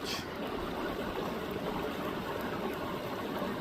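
A small, thriving creek that holds brook trout runs in a steady, broadband rush of flowing water, close and continuous from start to finish with no voices.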